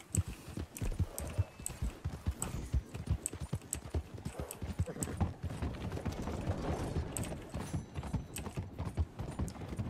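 Horse hooves clip-clop steadily from a ridden horse in a hunting video game, a rapid, even rhythm of close, loud hoofbeats running throughout.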